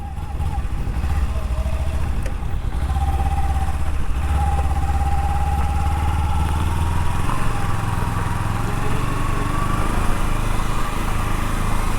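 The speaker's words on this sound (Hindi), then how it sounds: "जो है इसका creamy smooth parallel twin engine" A Kawasaki Ninja 300 parallel-twin motorcycle engine hums steadily while being ridden, a continuous low drone with a faint rising whine layered on top, loud and constant throughout with no talking.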